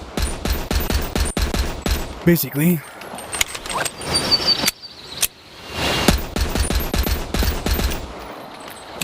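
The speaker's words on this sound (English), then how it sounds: "Now, updated version of Kendo's gun, Silver Ghost." Kendo's Silver Ghost handgun from Resident Evil firing repeatedly in quick, sharp reports, in bursts separated by pauses, with someone talking briefly between volleys.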